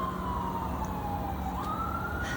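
A siren wails steadily in the distance, its pitch sliding slowly, over a constant roar of traffic and road noise.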